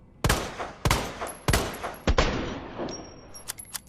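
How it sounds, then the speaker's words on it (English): The Matilda handgun in Resident Evil 2 Remake fires four sharp, loud shots at roughly half-second intervals, each followed by a short ringing tail, then some lighter mechanical clicks and a faint high electronic tone. "So now let's finally test the Matilda out."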